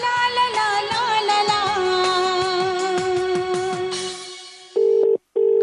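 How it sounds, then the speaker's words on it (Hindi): A tangle of electronic tones and musical notes fades out, then a telephone ringback tone sounds in two long, loud beeps separated by a short pause. "हम करण को फोन कर देते"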